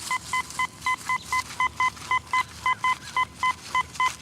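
Metal detector sounding a tight signal over buried coins, a steady series of about sixteen evenly spaced short electronic beeps, clear and close.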